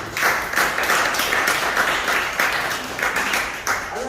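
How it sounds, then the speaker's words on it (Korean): A crowd claps and applauds to welcome a live improvising singer at an art exhibition opening in a gallery in Insadong, Seoul: dense, steady clapping that holds close and loud for the whole stretch, with faint voices underneath. "다시 한번 큰 박수로 환영해 주시기 바랍니다"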